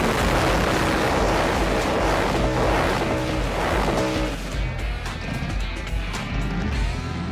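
Murder Nova drag car launching at full throttle, a loud, dense engine roar and tire noise filling the first four seconds, then easing slightly while staying strong and continuous to the end.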